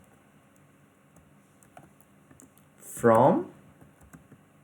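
Computer keyboard typing of an SQL query, soft scattered key clicks through the clip with a louder burst of speech partway through; a voice talks briefly over the faint tapping.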